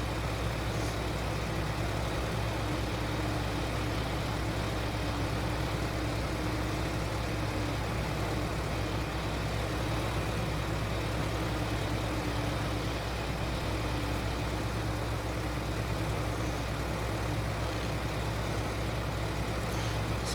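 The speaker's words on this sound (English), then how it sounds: "He should get pulling behind this tractor." A tractor engine runs steadily in a farm field where a forage harvester is also working, a constant low rumbling drone at close range that holds an even level throughout with no voices.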